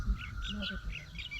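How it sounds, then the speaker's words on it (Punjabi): A faint Asian koel calls in the distance by a lakeshore in the early morning, repeating short tuneful notes over a low background hum. "ਆ ਪਿੱਛੇ ਕੋਇਲ ਬੋਲਦੀ ਹੈ"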